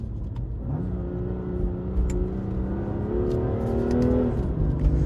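BMW M2 Competition engine under way with manual shifting, a steady loud cabin drone whose pitch climbs gradually and then drops as a gear changes near the end.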